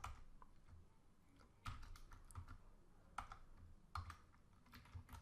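Someone types a short Python program on a computer keyboard, with soft, close keystrokes in an uneven rhythm and a few louder taps, in an otherwise quiet room with no talking.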